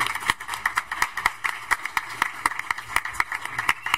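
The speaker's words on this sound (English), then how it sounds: "So another round of applause for Abby." Round of applause for a student at a school board meeting, a fairly faint, thin patter of scattered hand claps in an irregular rhythm, heard from a distance in a large room.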